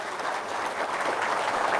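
An audience applauds at a spiritual talk, a steady, dense wash of clapping that carries on without a break.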